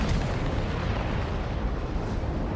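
Artillery fire in the video game Death Stranding 2: a loud, heavy booming rumble that opens with a sharp burst and then rolls on as a dense, continuous low roar.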